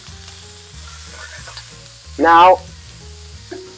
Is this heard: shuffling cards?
no